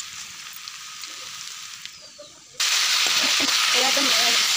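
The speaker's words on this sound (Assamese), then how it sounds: "এয়া একদম পিঁয়াজখিনিতে চিকেনখিনি দি দিলোঁ আৰু এনেকৈ নিমখ হালধি দি ভাজিছোঁ" Chicken pieces frying in a pan of browned onions with salt and turmeric, a soft broadband sizzle that jumps abruptly louder midway and then holds steady, with faint clinks underneath.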